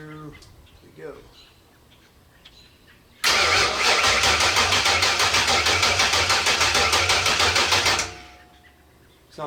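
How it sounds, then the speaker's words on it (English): A 1965 Mustang engine cranks over on the starter with no fuel or ignition, a loud, fast, steady churning whir lasting about five seconds before winding down, with quiet background sounds before and after. "We're just going to spin the motor over right now with no fuel in it or no ignition just to make sure everything sounds okay."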